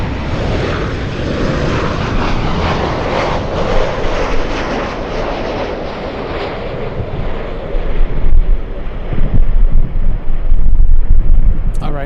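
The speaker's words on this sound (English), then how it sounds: "We'll go to the next arrival. Alaska Airlines, Alaska 533 from Seattle." An Alaska Airlines jet on arrival from Seattle at Los Angeles International Airport gives a loud, broad engine roar that swells toward the end as it passes close, with gusty wind buffeting underneath and no talking.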